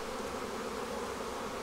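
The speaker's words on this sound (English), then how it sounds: "these bees are feisty today" Honey bees buzz at an opened hive, a dense, even drone of many insects close by that holds steady throughout with no talk.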